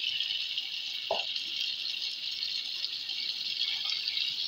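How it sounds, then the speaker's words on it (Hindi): Water pours steadily into a cooking pot of chicken and rice, about two cups, with a bright, continuous splashing hiss, plus a single metallic clink partway through. "अब इसमें हम पानी शामिल करेंगे"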